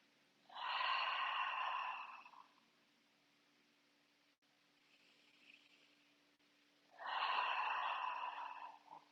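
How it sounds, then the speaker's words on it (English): Two long, breathy exhalations out through the mouth during a core exercise, each lasting over a second, close and quiet, separated by a faint softer breath in a still room. "Breathing out of my mouth."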